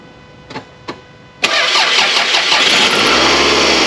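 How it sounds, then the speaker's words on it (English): A car engine starts with no battery connected, powered by a NOCO Boost GB40 or Hulkman Alpha85 jump starter: two faint clicks, then a sudden crank that catches and settles into a steady, close idle. "I'm going to go inside of the vehicle and try to see if I can start the"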